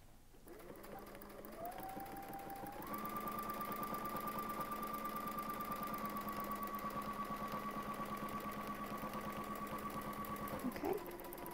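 A sewing machine runs in one steady, sustained hum while stitching a quilt border, with a rapid fine needle rhythm and a brief clunk as it stops near the end, no talk.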